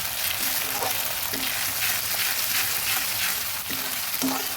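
Ginger paste frying in hot oil in a pan for a vegetarian Sankranti pachan, a loud continuous sizzle close by with occasional soft stirring scrapes and no voices.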